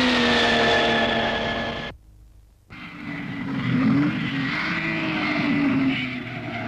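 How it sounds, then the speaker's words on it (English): A Ferrari race car roars up a mountain road during the 1953 Mille Miglia. The engine note is loud and droning, breaks off briefly, then returns with rising and falling revs. "The Ferrari is climbing the Radicofani."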